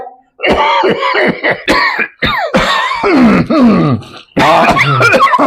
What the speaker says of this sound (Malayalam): ചുമച്ചിട്ട് വയ്യല്ലോ?